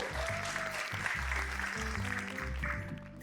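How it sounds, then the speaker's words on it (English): An audience applauds at an entrepreneur panel, a continuous layer of clapping running throughout while low voiced or musical tones pulse beneath it. "Big applause."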